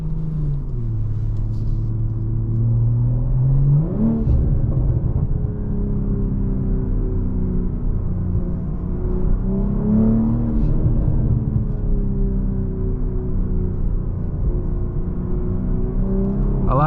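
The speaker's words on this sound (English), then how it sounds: "This car literally transforms and comes to life with the Sport Plus mode." A 2023 BMW M440i Coupe engine in Sport Plus mode gives a steady, loud rumble from inside the cabin, with two rising revs held at high RPM and no upshift, over continuous road noise.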